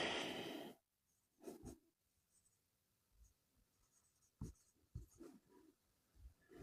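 Chalk or a pen writes on a board during a classroom science lesson on the human eye, giving faint, scattered scratchy strokes and taps separated by quiet gaps, with no talking.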